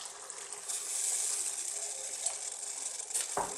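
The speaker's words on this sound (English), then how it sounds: "I'm now going to add a splash of water." A splash of water hits frying onions in a hot pan, setting off a loud, steady hiss of sizzling that continues close up with small crackles and a brief bubbling burst near the end.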